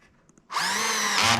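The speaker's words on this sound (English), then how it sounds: "drill the hole" A power drill spins up suddenly after a brief quiet moment, whining loudly and steadily as it bores a hole during porch swing assembly, with a slight pitch shift near the end.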